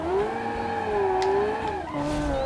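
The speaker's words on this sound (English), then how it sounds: "Look at that, a good drift." A car drifts around a track in the racing sim Automation, its engine droning steadily with a sliding, gliding pitch as the tyres skid through the corner, loud and close with no talking.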